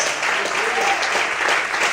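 A church congregation claps together in steady, dense applause, sustained for a couple of seconds without a break.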